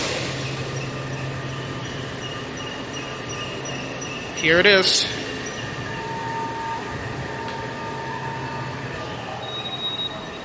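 Rail noise rumbles throughout with a brief loud squeal and rushing burst in the middle as a 7000 series metro train passes at Union Station in Washington, D.C.; a voice speaks briefly.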